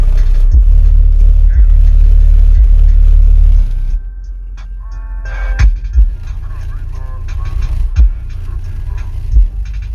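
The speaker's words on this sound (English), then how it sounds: "We are on the 12-inch subwoofer right now" A 12-inch car subwoofer thumps out heavy low bass, loud and throbbing for the first few seconds, then drops to a quieter rumble with scattered deep hits while music and faint voices carry on above it.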